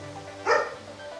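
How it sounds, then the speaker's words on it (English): A dog indoors gives a single short bark, wanting to be let back in, heard over steady background music. "my dog started barking to come back in"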